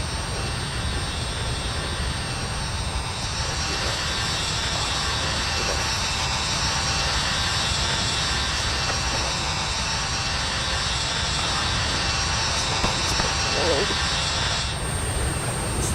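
An FSS E175 jet takes off in Microsoft Flight Simulator 2020, its engines roaring in a broad, continuous, steady drone that fills the whole stretch, with a person talking over it.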